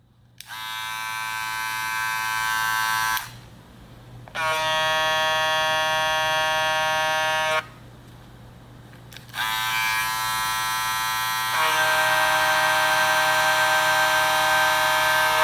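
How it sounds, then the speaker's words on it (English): Two electric head shavers, one with a vector motor and one with a rotary motor, take turns running: a steady, loud tonal buzz with short quiet gaps as one switches off and the other starts, no talking. "They have different motors. This is a vector motor. This is a rotary motor."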